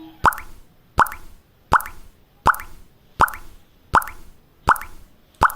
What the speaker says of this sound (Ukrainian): Ну, звісно, це так крапає водичка з крану.